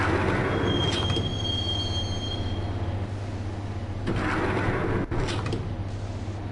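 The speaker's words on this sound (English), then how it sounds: "the train doors had already shut behind me, and I was in for the ride" A train ride in the video game Max Payne: steady, loud rumble of a subway car rolling on the rails, with a thin wheel squeal near the start and clattering bursts of track noise later, no voices.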